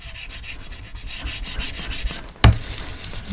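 Book cover material for an inverted photo album is rubbed down by hand in a rhythmic, close scratchy burnishing, with one sharp knock near the end.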